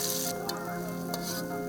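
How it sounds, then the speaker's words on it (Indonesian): Spices sauté in a hot wok with a dense, steady sizzle, broken by brief scraping stirs, loud and close with no voices. "Selanjutnya, tumis bumbu di atas wajan."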